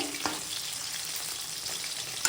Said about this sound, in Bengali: এখানে তো মাছ এনেছে তো মাছ ভাজা হচ্ছে